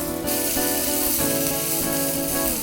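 Chopped onions fry in a pan with a continuous bright sizzle, close and steady, with faint stirring and no talking.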